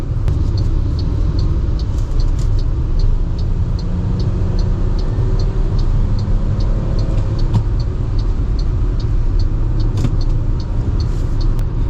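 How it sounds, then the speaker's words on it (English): A 2022 MG ZST budget crossover accelerating after a downshift, heard from inside as a steady, loud engine rumble with road noise that holds evenly throughout, with no talking. "if you want to quickly accelerate, you can just downshift, get to a higher RPM, Step on the gas."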